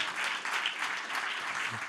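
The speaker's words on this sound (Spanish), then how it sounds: "Vamos, dale un fuerte aplauso de alabanza al Señor." A church congregation claps in praise during a Spanish-language sermon, a steady moderate wash of hands lasting a couple of seconds with no speech.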